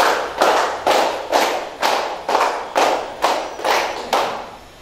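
A classroom group claps in a practiced rhythm, about eight sharp, loud, evenly spaced bursts of many hands together, with no talking over them.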